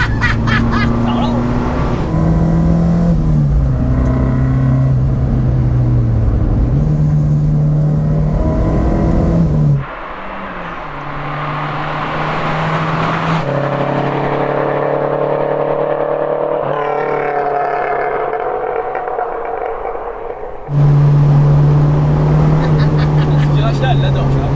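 A Renault 5 GT Turbo accelerates hard through a bend, its engine climbing in pitch, dropping on gear changes, then revving up again, with occupants chatting over the loud engine.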